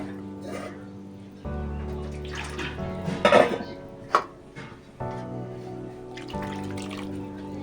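Water is poured into a pot of oil-free chicken curry, with splashing and trickling under a steady low hum and a few clinks of utensils against the pot.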